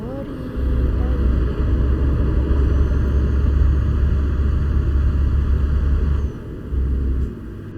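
In the Euro Truck Simulator 2 video game, a truck passes on a Transylvanian motorway with a loud, steady, deep engine and road rumble that holds for several seconds, then briefly drops and swells again.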